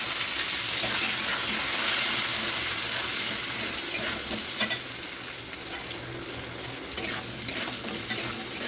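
Potatoes frying together with three dried red chilies in a pan, a continuous hiss of sizzling oil with occasional sharp stirring scrapes and clatters.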